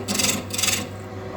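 Chisel paring a wooden bagpipe part, two brief rasping scrape strokes in quick succession, close and fairly quiet, followed by a short still pause.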